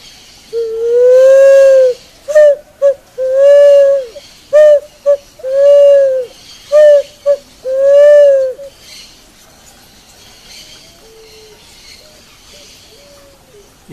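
A picazuro pigeon calls loudly and close, a series of deep rhythmic coos in a patterned phrase, followed by a fainter whistle-like note.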